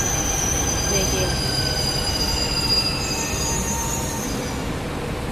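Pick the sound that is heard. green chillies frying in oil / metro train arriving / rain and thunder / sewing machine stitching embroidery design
metro train arriving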